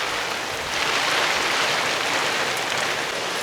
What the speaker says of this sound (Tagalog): bumuhos na po yung ulan